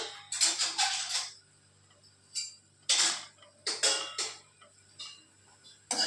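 Wet bombil fish dry-roast in a hot kadhai as a metal spatula scrapes and clatters against the pan in irregular bursts, separated by short quiet gaps.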